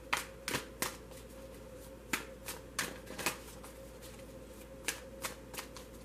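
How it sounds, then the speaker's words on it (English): Quiet, irregular shuffling of a tarot card deck, with sharp snapping riffles and soft slides at close range, no talking. "I'm gonna start shuffling the other deck."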